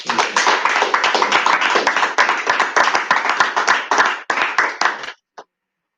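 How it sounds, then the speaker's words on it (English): Audience applause at a school prizegiving, with dense, loud clapping from many hands running steadily for about five seconds before tapering off and stopping, followed by a last lone clap. "So let's give you a big round of applause."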